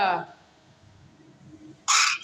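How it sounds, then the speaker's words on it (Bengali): Two short, bright bird calls, one at the start and one near the end, separated by a quiet stretch. "এটা একটা পাখি"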